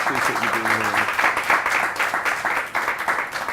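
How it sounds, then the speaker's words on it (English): Audience applause for a guest speaker at an education speaker-series event in a cafe: dense, steady clapping fills the room from start to end, with a voice briefly heard at the start. "Can we please give Dr. Yolanda Abel a big round of applause for her participation?"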